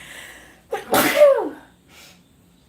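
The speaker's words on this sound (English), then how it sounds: "Oh god, I'm gonna sneeze." A single loud, close sneeze bursts out suddenly from a person crocheting indoors, preceded by a brief spoken exclamation and followed by a faint exhale.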